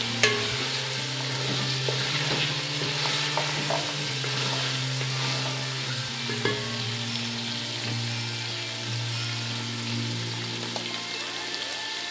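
Boiled beef being fried and stirred in a pot for degi-style beef biryani, a dense continuous sizzle with scattered scraping and clattering strokes throughout, close and even.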